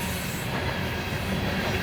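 An eastbound CSX coal train rolls steadily past, loud and close, with a continuous low rumble of railcars and wheels on the track and faint wheel squeal, no voices.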